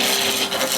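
Wood being roughed down on a lathe with peeling cuts from a 3/4 inch skew chisel gives a brief, steady, close rasping scrape.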